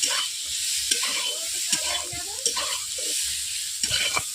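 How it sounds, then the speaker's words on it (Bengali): A utensil scrapes and stirs kohlrabi pieces in spiced oil in a pan, giving repeated clanks and scrapes over a soft, constant sizzle. "এরপর আমি মশলা কষিয়ে তেলের মধ্যেই ওলকপিগুলোকে আমি 2 থেকে 3 মিনিট এইভাবে নেড়ে নিচ্ছি"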